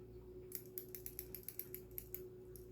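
A 72-tooth Harbor Freight flex head ratcheting wrench clicks through a quick run of fine, crisp ratchet ticks. The clicks are close and fairly quiet, evenly spaced over a low steady hum.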